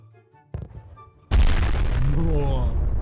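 A T-12 bomb detonating in Garry's Mod: after quieter game sounds and a smaller thump, a sudden massive explosion erupts into a loud, sustained rumbling roar with debris, while a voice talks over the game.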